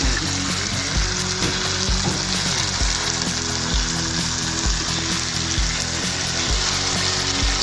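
Lentils being stirred and fried into a chicken biryani masala, with a loud continuous sizzle and rhythmic scraping strokes of a spoon against the pot, close up and steady throughout.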